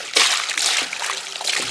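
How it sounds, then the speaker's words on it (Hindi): Bitter gourds washed by hand in a tub of water, with continuous close sloshing and splashing in quick, uneven pulses for under two seconds. "और एकदम खल खला के धोएंगे।"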